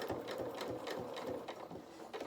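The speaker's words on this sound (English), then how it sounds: "I'm now going to just sew this next stitch" A domestic sewing machine stitches fabric for a small doll's sailor dress, its needle mechanism whirring in a steady, rapid rhythmic chug, close and continuous for a couple of seconds.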